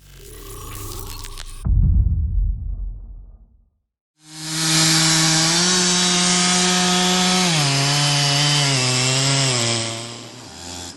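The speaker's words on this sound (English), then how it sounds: "That massive beech is no match for the MS-660." A Stihl MS-660 chainsaw with a 91.6 cc, 7.1 hp engine bites into a massive beech trunk, starting after a short burst of noise and a pause, then holding a loud, close, steady cutting whine with slight pitch dips under load.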